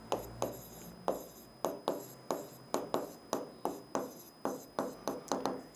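Chalk writing a geometry proof on a classroom board, heard as a steady run of crisp taps and short scratchy strokes in an uneven rhythm, close and clear with no talk.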